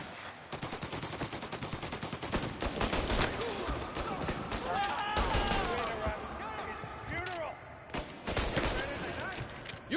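Gunfire in Mafia Definitive Edition: rapid bursts and volleys of shots crackle across the scene, with near and sharp reports broken by brief pauses, while shouting voices carry over the fighting.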